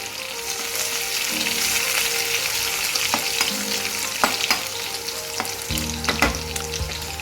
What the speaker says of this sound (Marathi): फोडणीलाही कोथिंबीर घातल्यानंतर बघा कसं चर्र आणि मस्त छान होते ही.